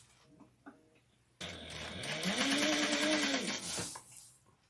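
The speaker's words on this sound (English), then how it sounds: "So I'm gonna machine base this at 1/8 of an inch all the way around." A sewing machine stitches a bag seam with a quarter-inch basting line through foam, starting abruptly and running at a fast, steady whir for about two and a half seconds before stopping, close and fairly quiet.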